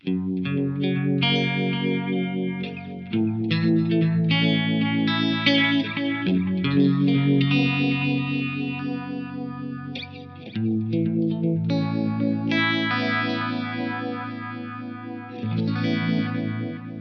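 Electric guitar on its middle pickup played through an Eventide H90 effects unit, with loud sustained chords and melodic lines carrying a chorus shimmer, light distortion and echo tails, continuous for the whole stretch with no talking.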